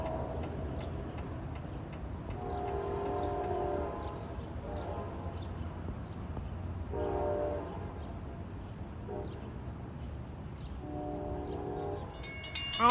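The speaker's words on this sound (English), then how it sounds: "he's got a good K5 LL horn on him" An LIRR train, number 6062, sounds its K5LL air horn at the Grant Avenue grade crossing in Islip, giving several long chord blasts over the steady rumble of the approaching train, with a bell-like ring near the end.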